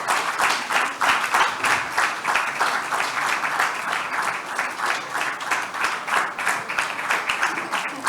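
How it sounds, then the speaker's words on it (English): A conference audience claps steadily and loudly for the full length, a dense continuous wash of hands with no break and no voices over it. "Please don't stop clapping until they come out here."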